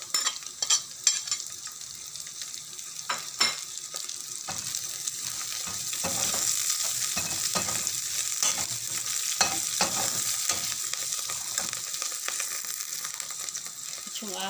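Chopped onions for pork humba frying in a pan, a steady soft sizzle with intermittent scraping and stirring of a utensil against the pan, fairly quiet and close, with no talking.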